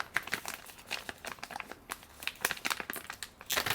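Plastic packaging for a Ringke phone case for the Samsung Galaxy Note 20 Ultra crinkles and tears up close, with continuous rustling and sharp ripping bursts that swell louder near the end.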